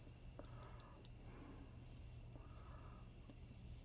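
A cicada buzzes its wings in a steady, high, close drone, with a faint pulsing rhythm, and no voices over it.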